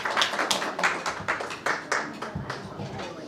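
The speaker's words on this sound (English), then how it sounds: "Another warm applause for Nanding, please." Scattered audience clapping at a birthday party at a Manhattan hotel, a few seconds of loose, rhythmic hand claps from a small crowd, close and moderately loud.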